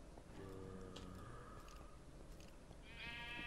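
Sheep in the video game Minecraft bleating, a couple of short, quavering baas standing out over a low game backdrop, the last one higher and brighter, all fairly faint.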